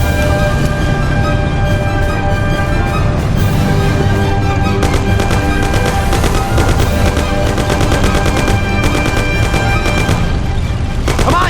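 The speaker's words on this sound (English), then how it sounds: "Sam, shoot them!" Sustained gunfire from Mafia: The City of Lost Heaven, loud rapid bursts of automatic shots layered over engine rumble, growing denser in the second half.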